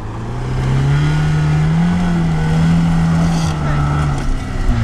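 An off-road car with a rear limited-slip differential drives over rough ground. The engine holds a loud, close, steady drone whose pitch wavers up and down as the driver works the throttle.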